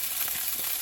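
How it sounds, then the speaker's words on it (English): Cold refrigerated rice broken up in a hot pan for Spam fried rice, sizzling in a loud, continuous crackle with a couple of brief stirring surges. "we want to take our rice that is refrigerated and cold, just break it up, and you want that sizzle"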